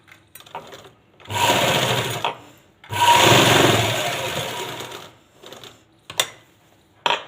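Sewing machine stitching the lining onto a waistband, running in two steady bursts of rapid, close stitching with a short pause between, then faint clicks and handling noises as it stops.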